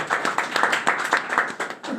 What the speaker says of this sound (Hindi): आयुषी के लिए एक बार एकदम बजाई ताली हो जाते हैं।